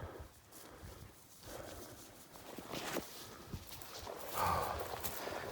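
Horse hooves clip-clop at a slow walk outdoors in British Columbia backcountry, fairly faint and irregular, with wind-like background noise and a brief bird call.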